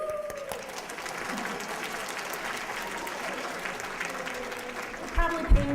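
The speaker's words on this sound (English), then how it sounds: "so that's good to applaud them" Conference audience applauding premier sponsors at a justice conference luncheon, a steady wash of clapping throughout with a few cheers, swelling slightly near the end.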